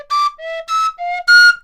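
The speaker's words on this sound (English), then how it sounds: "And it overblows very easily at the octave." A Glissopipes, a recorder-like instrument, plays short breathy whistled notes that jump up to the octave and slide between pitches, alone and close.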